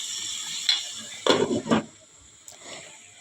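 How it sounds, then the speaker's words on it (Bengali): A lid set down over a cooking pan of radish and shrimp, giving a couple of sharp metallic clanks and a short rattle, close by against a quiet kitchen background. "এবার আমি একটু ঢেকে দেব"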